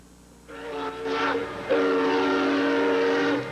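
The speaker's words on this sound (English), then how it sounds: "The U.S. Berlin duty train is here for your convenience, and it's free." A U.S. duty train in Berlin rolls past, its low rumble growing as two long tonal whistle blasts sound, the second louder and sustained, with no voices.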